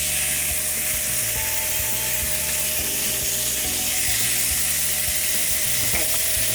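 Chicken pieces laid into a hot frying pan, a loud continuous sizzle and crackle with a steady hiss running throughout, a few faint clicks and knocks underneath.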